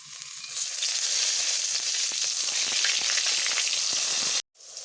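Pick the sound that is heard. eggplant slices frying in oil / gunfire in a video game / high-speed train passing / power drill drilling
eggplant slices frying in oil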